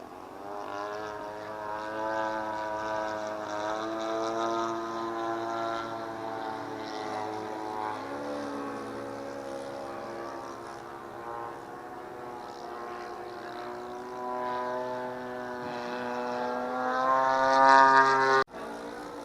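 Radio control model airplane taking off downwind at an aerodrome jamboree, its propeller engine holding a steady buzzing whine that swells as it climbs, with a brief speaking voice nearby.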